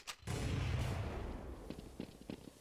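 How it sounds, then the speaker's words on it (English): Counter-Strike: Source gunfire during a tournament grand final round, a dense rumbling burst of shots followed by sharper scattered pops, fairly faint and without talk. "TCK putting a lot of gunfire into this round"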